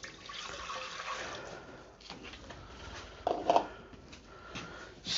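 Water poured from a measuring jug into a bowl for raisin bread dough, a steady liquid splashing and trickling for several seconds, with a brief louder burst near the end.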